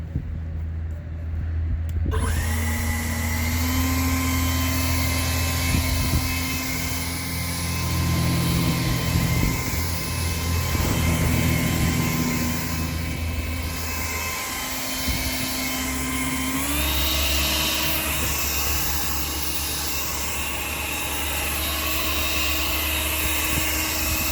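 An EGO variable-speed cordless electric leaf blower runs steadily and loudly for the whole stretch, its whine stepping up in pitch partway through as the speed rises, with no talking over it.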